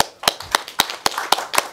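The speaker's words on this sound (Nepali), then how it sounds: "म चाहिँ ताली बजाउँछु उहाँहरूलाई।" A single person claps hands at a steady, even pace, seven sharp claps close to the microphone with light background noise and no talking.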